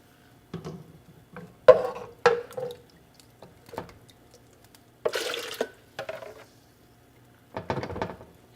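Squash soup broth and vegetables are poured into a Vitamix blender jar in several short bursts of splashing and dripping, close and moderately loud, with quiet pauses between pours and no talking.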